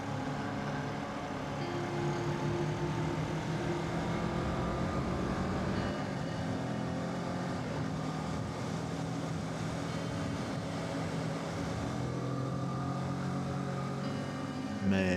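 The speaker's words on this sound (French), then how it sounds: "il n'y a plus que le son de la moto" A motorcycle engine droning along the road on a rainy ride, a steady tonal hum held at constant loudness throughout, with a slight shift in pitch midway and no voices.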